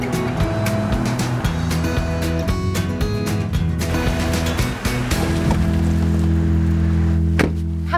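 A car rolls through a car wash, with a loud steady mechanical drone and hum from the machinery, rushing spray and clattering brush or water hits, and a brief sharp knock near the end.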